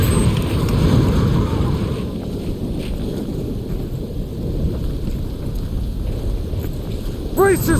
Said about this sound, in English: Superstorm's winds are gonna hit harder as we move to higher ground